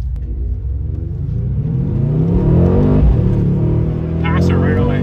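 A Mercedes C63S or BMW M4 Competition engine revs hard on a backroad, a loud, close rumbling roar that climbs and falls over a few seconds, with a voice speaking over it.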